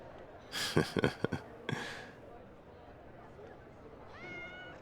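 A kitten gives a few soft, high meows, with faint voices speaking quietly in the background.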